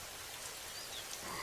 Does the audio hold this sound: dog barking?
no